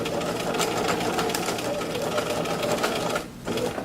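A sewing machine runs fast and close while backstitching a shirt cuff onto a sleeve, a steady rapid mechanical chatter that briefly eases near the end.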